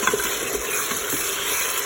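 Chicken frying in a Cookeo as turmeric, ginger, salt and pepper are stirred in, a close, steady sizzle with light scraping of the stirring.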